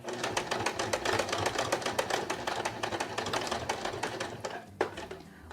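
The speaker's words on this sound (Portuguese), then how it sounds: "E eu vou costurar até onde tá aqui o meu alfinete" A sewing machine stitches through the fabric and lining of a child's clutch bag, a rapid steady run of mechanical needle taps throughout, close and clear, with a brief pause and bump near the end.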